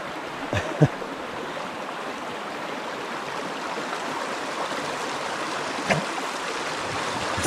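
A Carpathian mountain stream rushes continuously in a steady, broad flow, with a few faint thumps and knocks standing out briefly above the constant babble.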